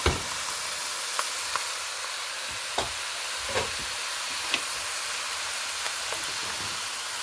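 Chicken sizzling in a pan over high heat with no fat, a constant close hiss broken by scattered sharp pops and crackles throughout.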